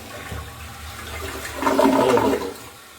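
A toilet flushes nearby in one loud rushing surge of water that swells midway and then drains away, with no voices.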